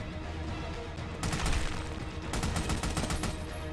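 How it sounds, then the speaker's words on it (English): Sustained gunfire in the co-op shooter Army of Two, with dense, rapid bursts of shots that swell and keep going across the whole stretch, loud and close. "Who else is shooting at us?"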